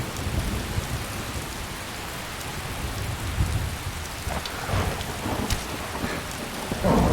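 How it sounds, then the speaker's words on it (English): Rain and rolling thunder in Skyrim, a steady hiss of rainfall with deep thunder rumbles that swell mid-clip and again at the end, with no voices. "I don't know who recorded these thunder sounds"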